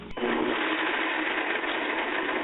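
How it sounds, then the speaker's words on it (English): A Blendtec blender on its Ice Maker Milkshake setting blends a fruit and vegetable smoothie, a loud, steady motor whir that starts abruptly and runs evenly without a break. "We're going to hit the Ice Maker Milkshake on our Blend Tech, but if you have a Vitamix, hit the high speed."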